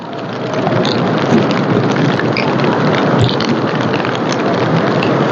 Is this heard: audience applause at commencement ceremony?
no